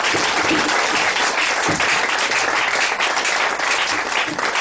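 A church congregation claps their hands for Jesus, a dense, steady wash of many hands beating together loudly and continuously throughout, with no voices standing out.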